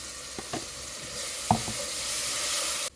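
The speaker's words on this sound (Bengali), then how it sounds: "এখন একটু রসুন দিয়া দে রসুনটা কিছুক্ষণ বাইজা" Garlic sizzling in hot oil in a pan after onions have been fried, a steady faint crackle with a few stirring scrapes near the start and middle.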